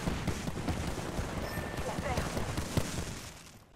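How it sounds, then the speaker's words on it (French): Cluster bomb explosions in the battle royale shooter Apex Legends come as a rapid string of dull, rumbling blasts with crackling bursts that keep going for several seconds, then fade out at the end. "Déploie ma bombe à dispersion."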